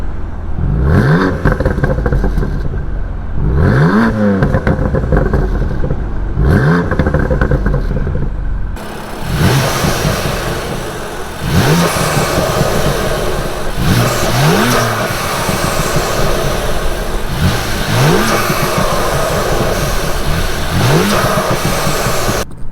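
A BMW M3 fitted with new intakes revs repeatedly in loud, evenly spaced bursts, each rising and falling with turbo spool, close and aggressive, with a steady rumble between revs.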